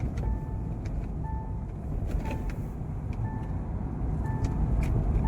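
Road traffic moves along a route through a mountain valley, with a steady rumble of passing vehicles and a few short tonal horn-like beeps repeating through it.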